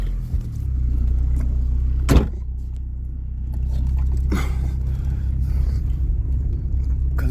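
An old car engine idles steadily close by, a low continuous rumble with a brief knock or clunk partway through, then keeps running evenly with no talking.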